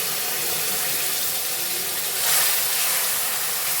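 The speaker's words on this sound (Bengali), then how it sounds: "কাজু বাদামের এই বাটিটা ধুয়ে জলটা দিয়ে দিচ্ছি" Water from a rinsed cashew-paste bowl is poured into a pan of spices for a Bengali doi katla fish curry, making a loud, steady hiss and sizzle that swells briefly near the end.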